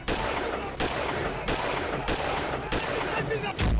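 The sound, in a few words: gunfire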